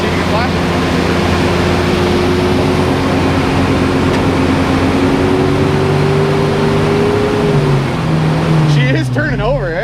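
A Chevy Blazer engine runs at a steady, loud idle in a scrap yard, then the throttle is blipped near the end so the pitch rises and wavers; voices talk over the running engine.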